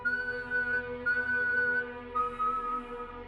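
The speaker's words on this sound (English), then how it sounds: "3 long whistles, then silence." Long, steady whistles, a few sustained tones at a constant pitch, one after another over a low background hum.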